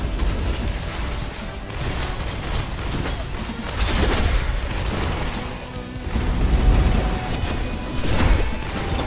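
Rockets explode in the Override: Tag Team fighting game, several heavy booms and crashes landing at uneven intervals over a dense, constant roar of battle noise.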